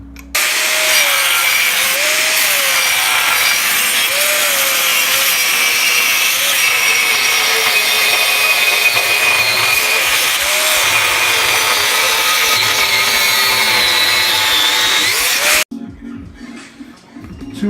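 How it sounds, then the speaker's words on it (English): An angle grinder's cutting wheel slices along the edge of a clamped metal bar for a custom fender hinge on a 1983 Honda ATC 70, a loud continuous high-pitched whine and rasp that holds steady for about fifteen seconds, then cuts off abruptly. "just by having my grinding wheel, my cutting wheel, follow the edge of this piece of bar"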